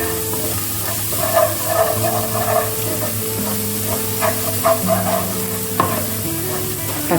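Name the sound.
chopped onion frying with garlic and ginger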